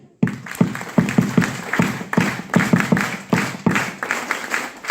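An audience at a lifestyle leadership event claps together, a dense run of hand claps with uneven rhythm that rises and falls across the stretch, close and fairly loud with no talk over it.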